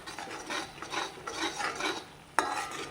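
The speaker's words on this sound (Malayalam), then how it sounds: "നനവിന് വേണ്ടിയിട്ട് കുറച്ച് വെള്ളം ഒഴിക്കുക." Egg roast gravy sizzles in a pan as it is stirred in repeated scraping strokes after water is added, ending with a sharp clank of the spoon against the pan.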